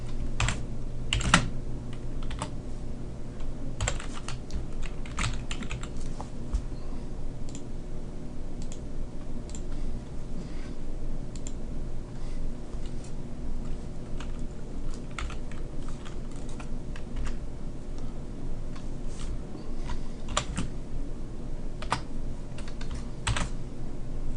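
Fingers tap out text on a computer keyboard, giving a close, continuous run of light clicking keystrokes with occasional heavier presses over a faint steady hum, and no voices.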